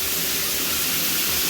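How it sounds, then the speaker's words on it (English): A shower runs steadily in a bathroom, its water spray making a loud, continuous hiss that fills the whole short stretch with no pauses or other sounds. "I don't know if you heard all the noise of that shower."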